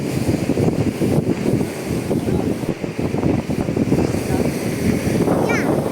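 Strong post-typhoon wind batters the microphone over rough sea waves in a steady, loud roar, with people shouting nearby on a boat.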